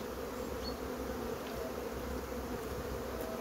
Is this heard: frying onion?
no